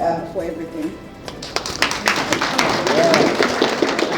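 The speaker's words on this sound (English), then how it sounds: "Let's give them a round of applause." Audience applause rings out in a hall after a speaker's thanks, a dense patter of many hands clapping that swells and holds steady, with some voices mixed in.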